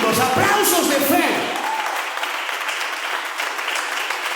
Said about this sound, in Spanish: Den un aplauso con fe, no aplausos raquíticos, aplausos de fe.